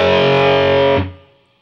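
A distorted electric guitar, strummed once across the open low 5th and 6th strings in a heavy metal riff, rings as a loud, thick chord for about a second before it is choked and cut off.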